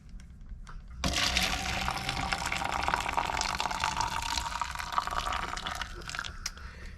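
Hot water pours into a plastic cup for coffee, starting abruptly as a loud, steady splashing stream that runs for several seconds before easing off near the end, with no voices.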